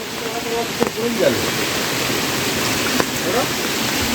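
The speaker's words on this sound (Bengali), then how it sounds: "সিঁড়ি দিয়েও জল পড়ছে খুব রিস্ক আছে" Water rushes steadily down stone stairs near a waterfall in Keonjhar, Odisha, a constant broadband roar with a few sharp clicks and faint voices underneath.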